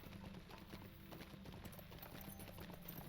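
A horse in the Lord of the Rings Online game trotting with quick, rhythmic clip-clop hoofbeats, steady and fairly faint against a low game background.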